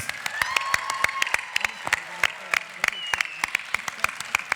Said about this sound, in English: One more round of applause for tonight's winners!